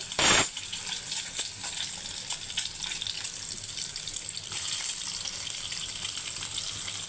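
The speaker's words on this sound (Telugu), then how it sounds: "ఎగ్స్ ముక్కలు ముక్కలుగా చేసుకుని ఆయిల్లో వేయించుకుంటున్నాను" Egg pieces frying in hot oil for an egg pickle, a continuous close sizzle after a brief sharp clink at the start, steady and without talk.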